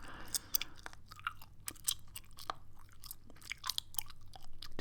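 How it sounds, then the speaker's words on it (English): Gum chewed right at the microphone in an ASMR setting: wet, sticky clicks and smacks in an irregular rhythm, close and intimate, with no talking over them. "I'll just chew in your ear for a second."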